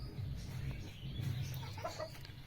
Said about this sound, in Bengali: এখানে একটা মুরগি ডিম দিয়ে এখানে বসছে।